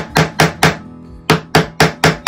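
Sharp, loud hammer or mallet blows on a chisel, carving wood out of a conical hole in a handmade wooden mug. Seven strikes land in an even rhythm, with a short pause after the first three.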